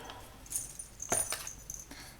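Small gold and bronze metal charms, bells and eye pins being unpacked, with light metallic clinks and jingles, close and fairly quiet, no talking.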